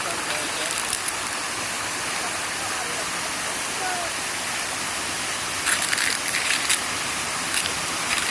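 A natural waterfall at a resort in Wayanad, Kerala, roars with a constant, loud rush of falling water that fills the whole scene close by.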